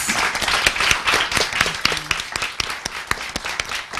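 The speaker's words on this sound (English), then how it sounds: "So please give a round of applause to our panelists." Audience applause for a panel at a law and social transformation event in São Paulo, a steady patter of hand claps with sharp individual claps standing out, moderately loud and continuous throughout.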